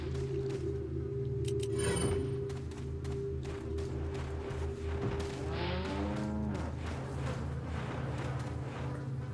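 Cows lowing on a farm in the survival-horror game Resident Evil 4, a few drawn-out moos rising over a steady droning ambient hum and bed of game noise, moderately loud and continuous.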